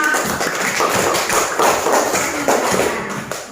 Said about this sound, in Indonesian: Ya, tepuk tangan untuk kelompok.